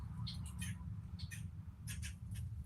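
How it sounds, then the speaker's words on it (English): Several short bird calls and chirps sound outdoors in Niger, coming in brief bursts over a steady low rumble of background noise. "you hear them birds"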